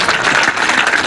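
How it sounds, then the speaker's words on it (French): Brief burst of hand clapping from a small group outdoors in the Parc de la Tête d'Or in Lyon, a short, close patter of claps lasting about a second. "Applaudis."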